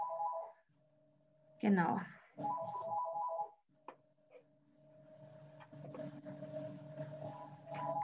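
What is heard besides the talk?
office telephone ringing briefly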